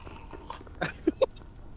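Hostile creatures growling in a horror video game, with two short, sharp guttural snarls following a rougher rasping burst, close and moderately loud over a quiet background.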